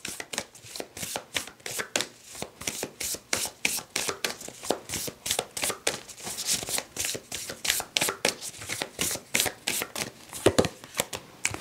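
Tarot cards shuffled by hand in a steady stream of crisp riffling flicks, close and fairly quiet, with no voices.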